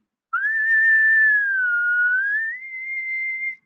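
A person whistles one sustained high note that holds steady, dips slightly in pitch, then rises and settles for a final held tone, clear and close with no other sounds.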